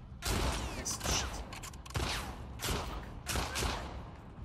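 Several bursts of gunfire ring out in the video game The Last of Us Part II, sharp loud shots spaced roughly a second apart with ringing tails, no talking over them.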